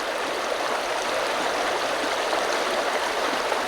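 Cold stream water rushes steadily in a close, broad, unbroken hiss, with no voices over it.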